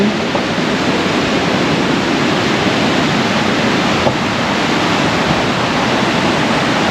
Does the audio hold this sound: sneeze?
no